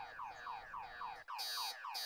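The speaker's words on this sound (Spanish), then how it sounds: "¡Solo apaga tu alarma!" BMO, the small robot from the Adventure Time cartoon, sounds an alarm: a loud, steady electronic siren that sweeps repeatedly in a fast rhythmic pattern, alone and up close.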